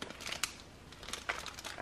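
Fingers pull open the plastic bag around a packaged Cinnabon bakery-style cheddar roll sausage and egg sandwich, giving quiet, close crinkles and a couple of sharper crackles over a soft background.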